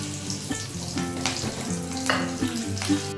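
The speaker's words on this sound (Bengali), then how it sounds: "হাফ চামচ মতো জিরে ফোড়ন দিয়ে দিলাম। কাঁচা লঙ্কা 3টে দিয়ে দিলাম," Cumin seeds and green chillies sizzling in hot oil for an old traditional Bengali recipe, a steady close crackle and hiss with brief stirring clinks, no talking.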